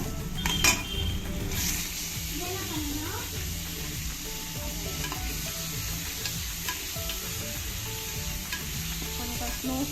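Tomatoes fry in a pan for mutton biryani with a loud, dense sizzle and stirring scrapes throughout, and a voice is talking over it.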